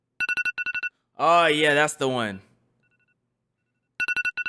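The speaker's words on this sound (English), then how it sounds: "iPhone alarms could deadass wake Sleeping Beauty from her slumber." An iPhone alarm plays in rapid bursts of short, bright electronic beeps, first alone, then stopping while a person speaks, then starting again loud and close.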